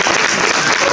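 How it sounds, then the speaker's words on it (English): Audience applause at an evening talk on plastic recycling, a dense steady patter of many hands clapping close by for the whole short stretch, loud and unbroken. "I also want to give a round of applause first to Will,"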